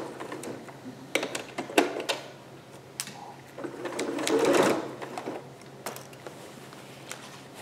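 Domestic sewing machine stitching a dart in a skirt, running in short bursts with pauses and a longer run near the middle, close and clear with light handling noises.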